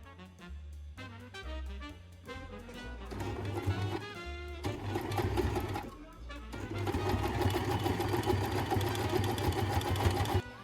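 A sewing machine runs a straight stitch through fabric, first in short start-stop bursts and then in a long continuous whirring run, close and fairly loud with no talk.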